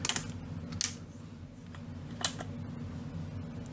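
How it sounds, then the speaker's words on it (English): Ratcheted waist joint on a Cloud 9 Quakeblast transformer toy clicking as it is turned, a few sharp close plastic clicks spaced apart over quiet room hum. "which gives them a ratcheted joint, waist joint"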